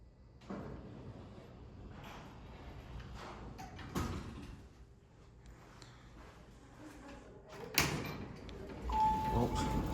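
Mitsubishi hydraulic elevator doors slide and bump shut in a business and technology center, with rumbling motion and several thuds, including a sharp clunk near the end, while people talk.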